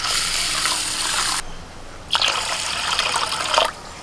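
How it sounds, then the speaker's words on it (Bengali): Rice grains being washed in water before soaking for jeera rice, a steady close sloshing and trickling that breaks off briefly, then returns in a second rinse with splashy bursts. "প্রথমেই চালটাকে ভালো করে ধুয়ে ভিজিয়ে একটু"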